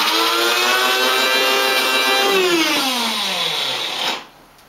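A small coffee grinder grinding flax seeds whirs loudly at high speed, its motor pitch sliding lower before it cuts off abruptly, leaving quiet.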